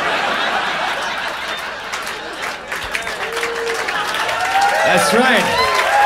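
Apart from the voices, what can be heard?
audience applause at a comedy show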